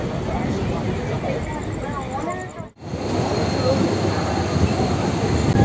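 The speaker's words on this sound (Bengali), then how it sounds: "আর ট্রেন ব্যান্ডেল স্টেশনের 4 নম্বর প্ল্যাটফর্ম থেকে রওনা দিল হাওড়ার উদ্দেশ্যে" A Bandel–Howrah local train pulls out from platform 4 of Bandel station toward Howrah, a loud, sustained rumble of wheels on rails with squealing tones and a brief dip before the roar builds again.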